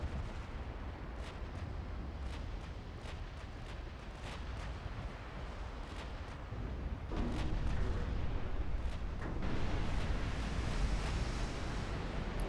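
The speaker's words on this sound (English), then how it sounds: "Main deck pen on this battleship with one of my 18-inch guns" Heavy naval gunfire from 18-inch battleship guns in the Ultimate Admiral: Dreadnoughts game, with repeated booming shots and impacts over a dense rumbling wash of sea and battle noise that swells louder toward the end.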